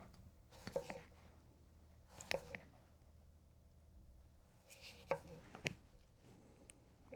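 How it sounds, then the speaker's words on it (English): An Enso Aogami Super 9.5-inch hand-forged kiritsuke push-cutting a fine brunoise on a board: sparse, close knife taps in small clusters, with quiet gaps between strokes. "I'm going to do a brunoise, but I can't cross chop, I can't rock chop, so this is all going to be push and tap"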